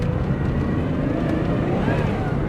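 A 1998 Pontiac Grand Prix GT on gravel gives a steady, loud engine roar with road rumble heard from inside the car as the gas is pressed and then let off.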